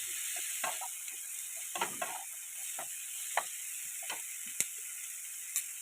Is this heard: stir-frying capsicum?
yes